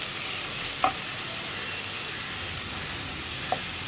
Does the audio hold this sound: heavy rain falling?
no